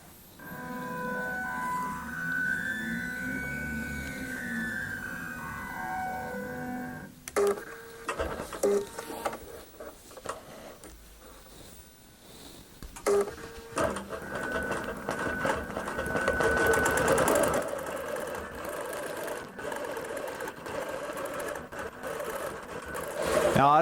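QBOT V3 Pro quilting machine stitching an outer boundary, a rapid mechanical needle chatter whose pitch rises and falls as it speeds up and slows, then stops and restarts in uneven busy bursts, close and steady.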